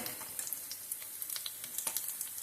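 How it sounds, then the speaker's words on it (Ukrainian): Onion frying in a skillet as the base for meatball soup gives a steady, soft sizzle dotted with small crackles and pops, heard close with no talking. "Підсмажилася цибулька до золотистого кольору."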